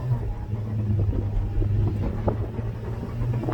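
A Porsche 986 Boxster with Tiptronic automatic pulling away, a deep steady engine rumble heard from inside the car with a slight rise in revs, close and continuous with no talking.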